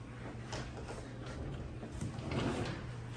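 A pocket sliding door beside a home's entryway rolls open with a steady, soft rumbling slide lasting about three seconds, fairly quiet and heard alone without talking.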